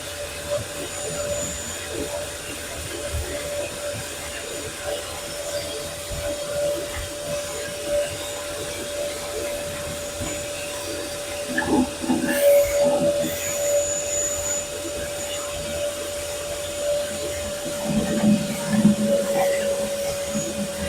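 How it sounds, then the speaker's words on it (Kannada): A Shakti GT-50L 50-litre wet and dry vacuum cleaner sucks up water, its loud, steady motor whine running throughout with gurgling, slurping bursts as water is drawn in, and a voice talking over it. "ವ್ಯಾಕ್ಯೂಮ್ ಕ್ಲೀನರ್ ಆನ್ ಮಾಡಿ"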